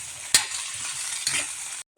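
Ampalaya with oyster sauce and egg is stirred in a pan, a spatula scraping twice through a steady sizzle with no talking.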